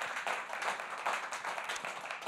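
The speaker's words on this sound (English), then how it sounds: "Another round of applause for Denver Open Media for putting this on." A comedy show audience applauds steadily, a dense wash of many hands clapping at close to moderate distance, holding an even level throughout with no speech on top.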